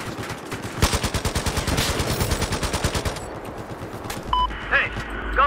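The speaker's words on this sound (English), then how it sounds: "Your position, there's enemy machine gun." Rapid, evenly spaced enemy machine gun fire in the video game Battlefield 4, hardcore assault mode, a loud sustained burst of about three seconds followed by a few scattered shots and a short voice.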